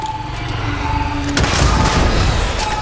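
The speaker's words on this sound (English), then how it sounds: "I'm just throwing grenades down." Grenade explosions in the video game Starfield go off as a deep boom midway, followed by a sustained rumbling, crackling barrage over a steady game hum.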